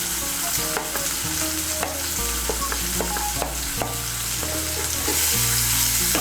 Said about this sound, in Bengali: পেঁয়াজ কুচিটাকে তেলের সঙ্গে মিশিয়ে নেব। মিশিয়ে নিয়ে পেঁয়াজ কুচিটাকে লাল করে ভেজে নেব।